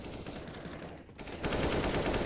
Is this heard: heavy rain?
no